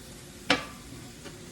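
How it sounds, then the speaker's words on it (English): Meat searing in olive oil in a stock pot, a faint low sizzle with a sharp clack of a utensil partway through and a softer knock later. "So I'm gonna sear this meat"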